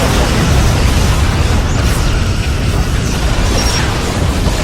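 Starship explosion in the Star Trek Legacy video game, a sustained loud rumbling blast with crackling and hissing layers lasting several seconds.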